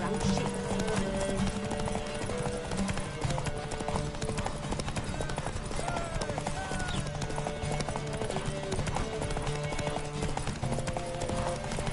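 Horses gallop in a race in The Witcher 3, a dense, steady clip-clop of hooves running throughout with occasional whinnies and game music layered beneath.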